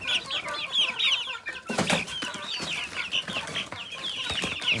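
Chickens raised indoors in their house since hatching, clucking and chattering in a busy overlapping flock, near and moderately loud, with a brief louder burst partway through.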